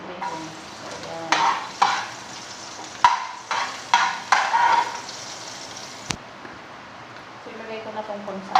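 Pancit noodles with bacon cook in a pan, with a steady sizzle broken by a series of loud scraping stirs in quick bursts. Someone talks softly nearby.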